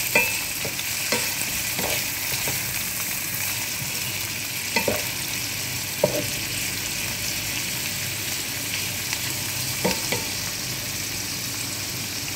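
Bitter gourd (ampalaya) stir-fried with browned onion and garlic in a pan, a steady close sizzle broken by sharp scraping and tapping strokes of a spatula as the vegetables are mixed.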